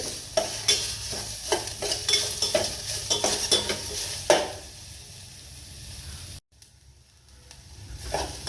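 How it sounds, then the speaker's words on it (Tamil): Tomatoes sizzle in oil in a pan while a utensil stirs and scrapes with quick repeated strokes, then the sizzle continues more quietly on its own. "டொமேட்டோ ஆட் பண்ணி நல்லா தா தாளிக்கிறோம்"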